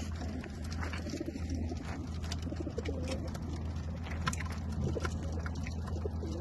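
Many racing pigeons coo softly and continuously over a low steady hum before a race release, with wings fluttering and scattered shuffling nearby.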